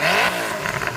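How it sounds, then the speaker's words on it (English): A Koenigsegg supercar's engine revs hard, a loud close roar with rising harmonics that swells and then holds at a steady high pitch through the brief burst. "I'm going to start it by revving up this Koenigsegg."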